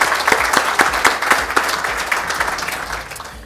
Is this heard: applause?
yes